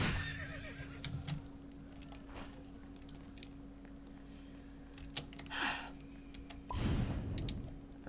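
Horses in a survival strategy video game neigh and whinny in short bursts over a steady low hum, with faint clopping steps and soft game noises in the background.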